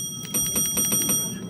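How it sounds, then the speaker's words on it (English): Bell rung in the Roblox horror game Doors, a run of about six evenly spaced bright clangs over a low game ambience, close and fairly loud with no talking. "Ring that bell, that does nothing."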